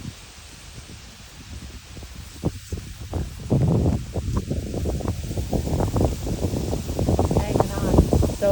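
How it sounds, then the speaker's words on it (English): Strong gusty wind blowing through branches outdoors, a steady rushing roar with louder buffeting bursts that build through the second half, close to the microphone. "It's so windy."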